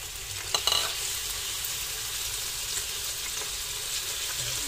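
Ground meat (giniling) sizzles in a pan while a ladle stirs it, a steady close frying hiss with a brief clatter near the start and no speech.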